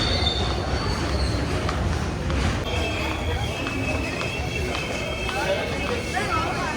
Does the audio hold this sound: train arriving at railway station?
yes